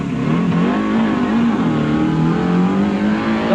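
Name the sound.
powerful race car accelerating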